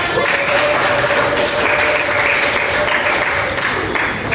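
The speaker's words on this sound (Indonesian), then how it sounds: "Tepuk tangan untuk kalian semua." A class of students applauding together: loud, dense, continuous clapping that holds steady throughout without any talk over it.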